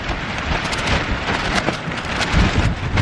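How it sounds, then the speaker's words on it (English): Strong wind at a mountain campsite with a tarp and hammock, blowing as a continuous loud rush and buffeting the microphone, swelling slightly toward the end; no voices. "I hope the wind calms down a little bit"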